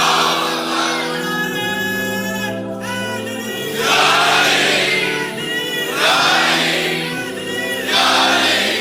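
A crowd of young people chants slogans in loud, rhythmic waves of massed voices, each shouted phrase swelling and falling in a repeating call pattern.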